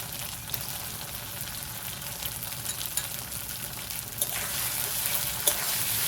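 Chicken frying with ginger-garlic paste for a village-style chicken kosha, a steady close crackling sizzle with faint stirring scrapes, continuous and without talk.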